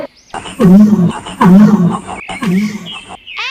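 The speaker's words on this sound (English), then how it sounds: "L for lion." Lion roar in a children's alphabet nursery song, three loud, rumbling roars in succession, each swelling and fading, close and prominent with no talk over them, followed by a brief rising whoosh at the end.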